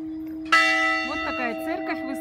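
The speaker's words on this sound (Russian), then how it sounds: "Церковь, вы слышите уже колокола." A church bell in Finland rings out with a sustained, resonant tone, sounding steady and fairly close, with faint voices murmuring underneath.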